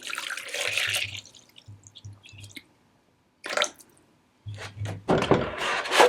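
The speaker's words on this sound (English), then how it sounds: "now we're going to go ahead and measure out our water" Water is poured and measured out for goat milk soap making, heard as short splashing pours and trickles broken by pauses and brief handling clatter, close up and with no talk.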